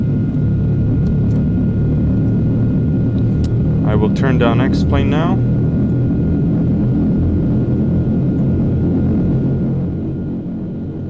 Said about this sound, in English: the engines are starting